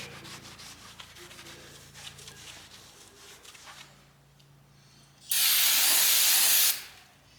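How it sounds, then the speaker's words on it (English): Brake cleaner sprays onto a new flywheel during a 1990 Mustang LX 5.0 clutch job, preceded by quiet scrubbing and wiping, then a loud steady hiss for over a second that cuts off abruptly. "get it cleaned up with some brake clean so we don't get any of that oil that they ship these things out with on the clutch"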